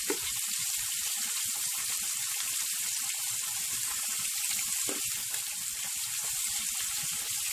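Spicy cow skin sizzles and fries in a pan with a bit of garlic salt, a steady bright hiss with soft crackles and bubbling, continuous and close, with no talking.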